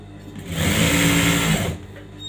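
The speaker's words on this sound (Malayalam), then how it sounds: "നമ്മളിങ്ങനെ വെച്ചിട്ട് 1/4 ഇഞ്ച് വീതിയിൽ സ്റ്റിച്ച് ചെയ്ത് കൊടുക്കും" A sewing machine stitches a quarter-inch seam on a blouse lining, a loud close whirring run that speeds up, holds for about a second and then slows to a stop.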